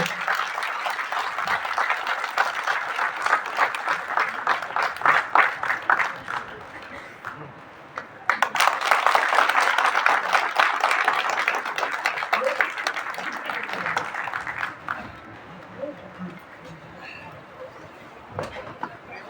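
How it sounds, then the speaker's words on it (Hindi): Loud, sustained clapping from an audience at a hospital Lab Technician Day function, with a brief dip near the middle before a second strong surge that fades into scattered claps. "जोरदार ताली, इतनी जोरदार ताली कि मेरी आवाज सुनाई ना दे।"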